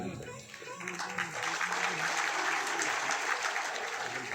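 An audience at a Hindu religious discourse breaks into applause that swells after a second and holds as steady, dense clapping, with a voice under it.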